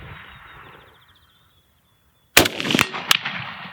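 A rifle fired at a target cracks out sharply after a couple of seconds of quiet, followed by a second shot and rolling echoes, loud and near.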